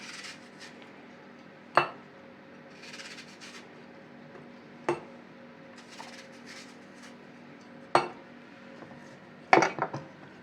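A knife cuts an apple into thin slices for fermenting alongside pumpkin, carrot and celery, producing several sharp, isolated clacks against a board at irregular intervals in a quiet kitchen.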